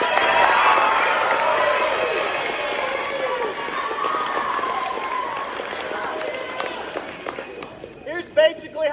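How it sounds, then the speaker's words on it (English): An audience at a school band winter concert applauds with steady clapping and some cheering that gradually fades, followed by a few brief louder sounds at the end. "Let's give Brady a round of applause"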